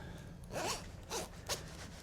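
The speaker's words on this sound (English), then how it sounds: "let's take the zipper down." Zipper on a Patagonia work denim vest being pulled down, three short rasping zips in quick succession, close and fairly quiet.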